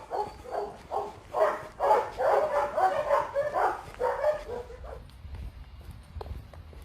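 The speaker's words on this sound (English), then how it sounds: "I don't think those dogs like me." Several dogs bark in a rapid, uneven burst of yaps and whimpers at moderate distance during a walk between Penicuik and Bonnyrigg in Midlothian, then trail off into quieter outdoor ambience.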